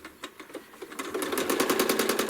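A home sewing machine stitches in the ditch on a ruler-quilted quilt, its needle tapping slowly at first, then speeding into a rapid, even, close rattle.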